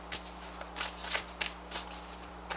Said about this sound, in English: You see me shuffle it.